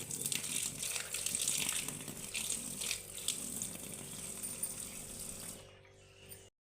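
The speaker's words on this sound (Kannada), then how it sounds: "ಇದನ್ನು ಚೆನ್ನಾಗಿ ವಾಶ್ ಮಾಡ್ಕೊಳ್ಳಿ" Lakshman phal fruit is washed under a running kitchen tap. Water gushes and splashes steadily at close range, then cuts off shortly before the end.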